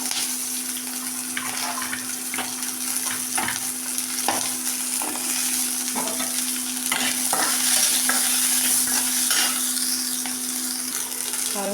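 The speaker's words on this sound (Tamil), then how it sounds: "பூண்டு ஒரு 5 பல் பெரிய பூண்டுங்க. அப்புறம் சின்ன வெங்காயம் இதெல்லாம் நல்லா வணக்கி பண்ணிக்கிறேங்க" Small onions and five large garlic cloves sautéing in a pan: a continuous close sizzle with intermittent stirring scrapes and spoon taps, nobody speaking.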